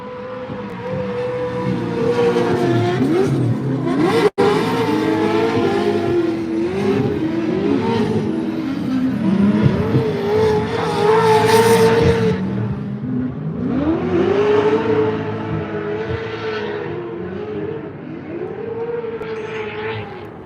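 Formula Drift pro cars practicing during warm-up in Utah, engines revving hard and rising and falling in long sweeping waves for twenty seconds, loud and close with no talking.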